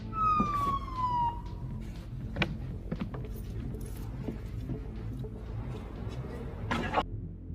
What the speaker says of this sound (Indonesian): terdengar suara siren polisi